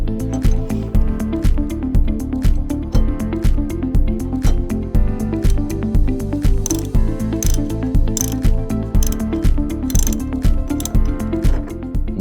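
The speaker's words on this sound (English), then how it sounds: "You will need your ratchet with a 3/8 bit on it." A ratchet fitted with a 3/8 bit loosens the door hinge bolts on a Hoshizaki undercounter prep table. Loud, close, rapid clicking repeats in a steady rhythm for several seconds.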